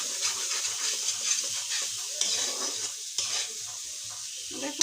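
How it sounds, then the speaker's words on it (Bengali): Masala for a Bangladeshi rida fish curry sizzles in oil in a pan while it is stirred, with a steady bright frying hiss, scraping strokes and occasional clinks of the utensil and no talk. "সুন্দর করে কষিয়ে নিচ্ছে আবার একটু।"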